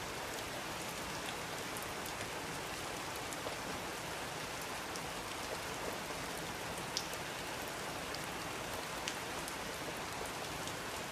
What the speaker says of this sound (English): The sound of the rain outside is muffled here, between the shelves.